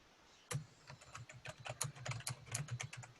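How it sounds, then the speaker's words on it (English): Fast, irregular typing on a computer keyboard, close and clear, with rapid key clicks and clacks running steadily after a brief quiet start. "Here's some typing."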